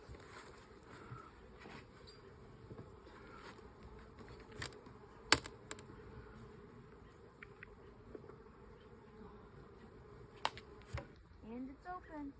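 Italian honeybees buzz softly and continuously around an opened hive during an inspection, with scattered clicks and scrapes of the hive tool on the frames.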